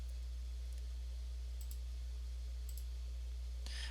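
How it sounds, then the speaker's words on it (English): Computer mouse clicks sound at a desk, several short, sharp, faint taps spaced a second or so apart over a low, constant electrical hum. "And so I'm just going to click OK"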